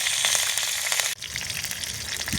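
Cumin seeds and curry leaves spit in hot oil in a kadhai over a wood-fired chulha, a loud continuous sizzle that jumps sharply as the leaves drop in, crackling close up without talk.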